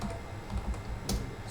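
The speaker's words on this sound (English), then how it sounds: "I type here get cell address." A few quiet, brief keystrokes tap on a computer keyboard while someone types a short formula into an Excel VBA macro button, with no speech.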